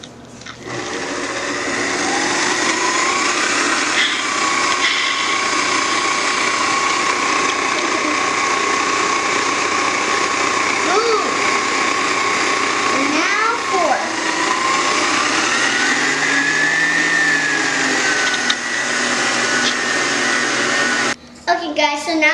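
Electric hand mixer beating eggs for brownie batter, a steady loud motor whir with slight pitch shifts as the beaters move through the bowl, running without pause and cutting off at the end.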